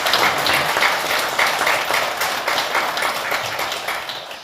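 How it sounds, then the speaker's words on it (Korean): Sustained applause from an audience at a Buddhist temple service, a dense wash of many hands clapping that holds steady and eases slightly toward the end. "다시 한번 박수 보내주시기 바랍니다."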